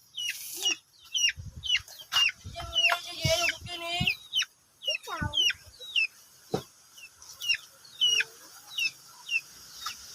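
Young chickens clucking near a house, a series of short, close clucks and chirpy calls in irregular bursts with brief pauses between.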